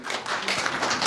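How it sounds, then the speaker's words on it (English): An audience at a workshop session on climate change adaptation and risk management in Africa claps, giving a short burst of steady, dense applause. "I just want us to clap for ourselves because you've done a great job."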